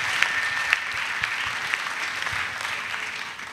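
Audience applause at an annual retreat of national missionaries in Côte d'Ivoire: steady, fairly close clapping from a crowd that holds at an even level with a few sharper claps standing out, then eases slightly at the end.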